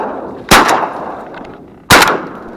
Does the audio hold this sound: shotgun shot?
yes